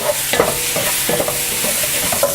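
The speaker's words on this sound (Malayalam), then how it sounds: "ഇഞ്ചി, വെളുത്തുള്ളി, പച്ചമുളക്, 2 തണ്ട് കറിവേപ്പില എന്നിവ എല്ലാം കൂടിയിട്ട് നന്നായിട്ട് വഴറ്റുക." Ginger, garlic, green chillies and curry leaves sauté in a pan with a steady close sizzle, broken by a few soft scraping stirs of a spoon.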